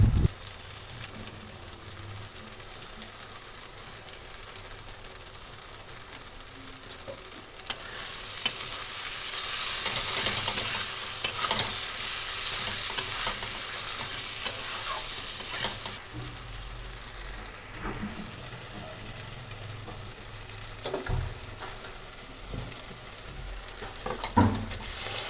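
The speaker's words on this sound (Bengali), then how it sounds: "তো দেখো আমি এখন টমেটোগুলোকেও ভালো করে একটু কষিয়ে নেব।" Roughly chopped tomatoes sautéing in spiced oil, a continuous close sizzle that swells sharply louder for several seconds midway before settling back, with occasional stirring clinks and no voices.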